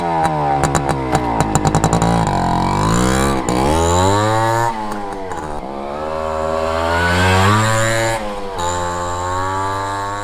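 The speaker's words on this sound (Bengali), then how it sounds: "বাইকের সাউন্ড কন্ডিশন খুবই ভালো আছে" Honda H100 CDI two-stroke motorcycle idling and revving up and down, a loud close engine with a rapid buzzing note that rises and falls repeatedly with no talk.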